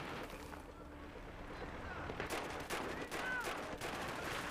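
Gunfire bursts crackle in a first-person shooter game during close-quarters combat, several sharp shots and rapid volleys over a busy background, loudest in the second half.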